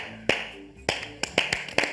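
A few sharp claps ring out at a comedy show, sparse and uneven, about six hand claps spread over two seconds rather than full crowd applause.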